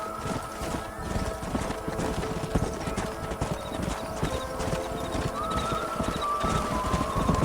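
Horses trot with steady clip-clop hooves and let out a whinny in a Red Dead Redemption scene set in New Austin, busy and continuous over a dense outdoor game soundscape, with faint high calls and tones layered above.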